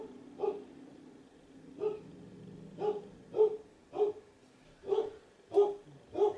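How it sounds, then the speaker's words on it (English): A dog barks repeatedly, about eight short, moderately loud barks at a steady pace, with a faint muffled quality and no talking. "What are you barking at now, Belle?"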